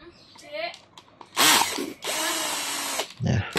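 A cheap cordless drill runs in short bursts: a few brief whirs, then two loud sustained high-pitched spins on a fast speed setting, with a small clunk at the end and no talk.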